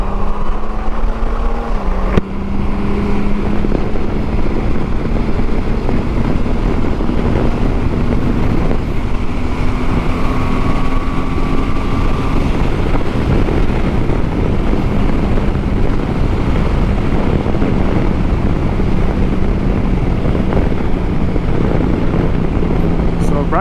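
A 2021 Honda Goldwing DCT motorcycle rides and accelerates, its steady engine drone rising and shifting in pitch under heavy wind rush, with a rider's voice talking over it.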